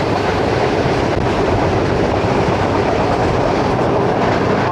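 A passenger train on the Lahore to Havelian route runs out of Gujranwala, a loud, continuous rumble of wheels and carriage noise heard from on board, steady throughout with no talk.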